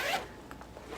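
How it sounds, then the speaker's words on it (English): A bag's zipper is pulled open in one quick, crisp rasp at the start, then fades into quiet room tone with no talking. "The zipper made a sound."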